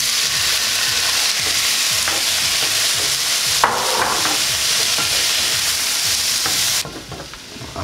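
Tomatoes tipped into lightly browned onions for a pork stew hiss with a loud, steady sizzle, a scraping stir breaking through midway before the frying eases near the end.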